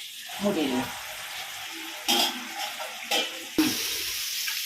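Soft bubbling and simmering of a fish curry in a pot on the stove, with a few brief clinks and stirring noises breaking in.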